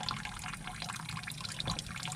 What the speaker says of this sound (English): a steady flow of cool water coming in to see if this justifies building the coil